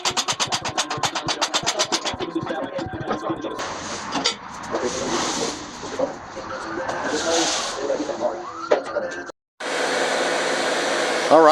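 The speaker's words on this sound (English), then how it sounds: "Let me turn off this heat gun." A heat gun blows with a steady airy roar close by while work on a 1968 Ford F100 goes on, with clattering and shifting noises around it and a short cut-off before the whooshing resumes.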